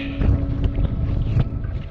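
Steady low wind rumble buffeting the microphone on Win Hill in the Peak District, with gusts swelling and fading throughout; no voices present.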